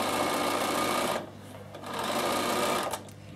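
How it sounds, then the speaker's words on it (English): A sewing machine runs top stitching around the edge of a small fabric bag made from a fat quarter, with a steady close whir that pauses briefly partway through and then resumes. "And now I'm going to top stitch right around my bag."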